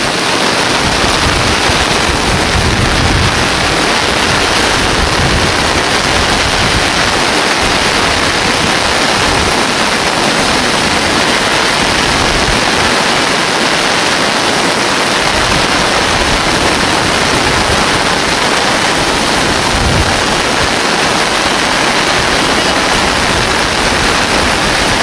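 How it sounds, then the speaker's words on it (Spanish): A swollen stream runs full after a day of rain, a steady, loud, unbroken rushing of water close by, with no voices. "El arroyo sigue su curso."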